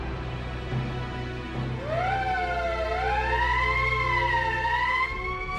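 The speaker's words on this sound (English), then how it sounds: "That's the emergency siren." Emergency siren in the video game VC VASTFR rises after a quiet moment into a loud, sustained wailing tone that sweeps up and down, then cuts off abruptly near the end.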